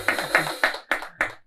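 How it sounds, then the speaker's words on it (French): A small studio audience claps for a Beninese singer, five or six short bursts of applause close to the microphone with brief gaps between them. "on l'applaudit"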